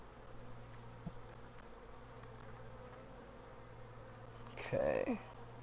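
Honey bees during a hive inspection and feeding, giving a faint, steady low buzz throughout, with a louder bee drone passing close near the end.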